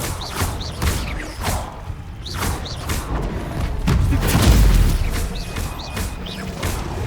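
A fire spell is cast in the Hogwarts Legacy video game, heard as a rush of whooshing blasts and thuds amid busy combat effects, with a louder surge near the middle of the stretch.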